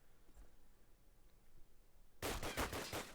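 Gunfire in a Call of Duty match during a competitive esports cup game: faint distant shots at first, then a sudden loud close burst of rapid automatic fire in the last second.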